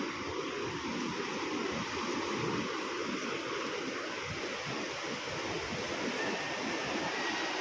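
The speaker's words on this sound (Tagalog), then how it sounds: "Lakas ng alon grabe. Ay, lakas ng alon." Steady roaring surf of strong ocean waves at Sabang, Palawan fills the air, a dense continuous wash of crashing waves and wind rumble with no pause.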